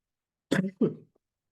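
A podcast host gives two quick, close coughs into the microphone in succession, rough and throaty, with silence before and after.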